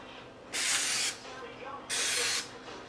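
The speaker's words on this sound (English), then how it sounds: "Now we need to spray, cooking spray on top." Two short bursts of cooking spray over fish hiss loudly, each lasting about half a second, separated by a brief pause with quiet background.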